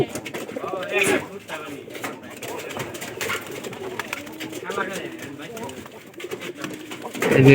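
Pigeons with their three chicks coo in low, throaty rolls, close by and fairly loud, while a person talks over them throughout.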